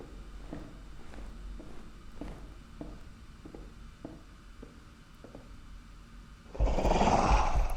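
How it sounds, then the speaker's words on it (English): Footsteps in the video game Tainted Pools tread at an even pace in a quiet, faint game space, then a louder burst of noise cuts in near the end. "Am I tripping or am I hearing footsteps?"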